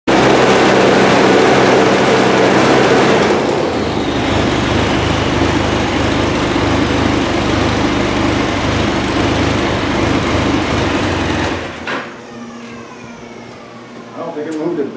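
Arctic Cat snowmobile track spinning on its slide rails during an idler wheel check, a loud continuous mechanical whir and rumble that runs steadily for about twelve seconds, then drops off abruptly to a quieter spin-down.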